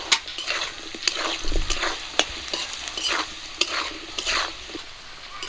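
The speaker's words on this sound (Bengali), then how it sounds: "আলুগুলো ভাজা হয়ে গেছে, তুলে নেব।" Potatoes frying in mustard oil with salt and turmeric, a steady sizzle broken by repeated scraping stirs of a utensil against the pan, close and fairly loud with no voices.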